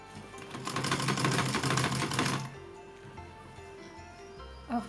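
An electric sewing machine stitches the edge of a small Laddu Gopal dress in a fast, even mechanical chatter for about two and a half seconds, then stops, leaving a quiet room hum and a faint click.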